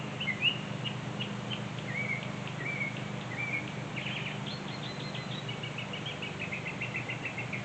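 A bird sings in quick series of high chirps and trills, fairly faint, in a garden over a steady low droning lawnmower next door.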